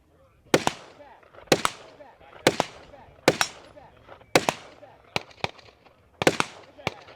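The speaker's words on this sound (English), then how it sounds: "they have to load that flashbang with one of these shotgun blanks for every shooter" A flashbang loaded with a shotgun blank cracks at an outdoor action rifle match, with sharp reports repeating about once a second and each echoing briefly into the distance.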